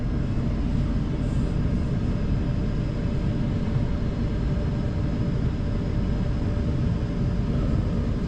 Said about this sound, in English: I'm backing up to my trailer here.